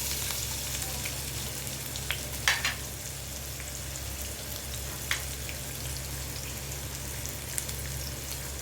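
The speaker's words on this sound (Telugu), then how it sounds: "ఆయిల్ హీట్ ఎక్కాక ఆనియన్స్ వేసుకుందామండి." Onions frying in hot oil for a chana dal and coconut curry: a steady, soft sizzle runs throughout, broken by a few sharp clicks and pops.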